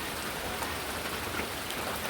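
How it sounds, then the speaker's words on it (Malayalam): Heavy monsoon rain pours steadily in a dense, even hiss, close and continuous with no pauses. "നല്ല മഴയുണ്ട്."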